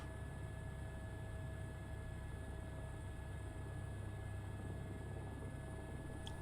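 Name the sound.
airplane on the runway preparing for departure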